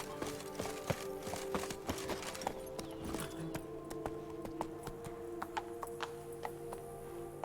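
Roach, Geralt's horse in The Witcher 3, clip-clops across hard ground in a quick, uneven series of sharp hoof strikes, close by, over a low background ambience.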